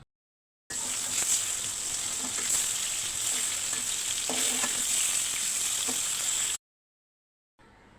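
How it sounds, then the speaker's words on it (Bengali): Pieces of katla fish frying in hot oil in a wok, giving a steady, loud, dense sizzle with faint crackles, running for about six seconds before cutting off, then resuming faintly. "চুলায় একটি কড়াই বসিয়ে তেল গরম করে নিয়ে তাতে মাছগুলো ভেজে নিতে হবে"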